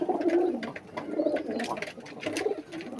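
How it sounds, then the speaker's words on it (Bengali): Giribaz pigeons cooing close by in Rajshahi, a run of low throaty coos repeating in waves with light rustling and faint chirps mixed in. "কবুতরগুলা সুস্থ তাজা কবুতর"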